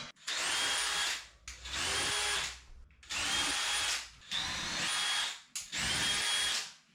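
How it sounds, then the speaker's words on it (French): Power drill boring large holes for Molly anchors in a plasterboard partition wall, five separate whining bursts of a few seconds each with short pauses between, close and loud. "je vais refaire des gros trous pour les chevilles mollies"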